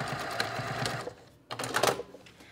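A sewing machine backstitches the start and end of a seam on a fabric drawstring bag, running in two short, loud, close bursts of fast stitching with a brief pause between.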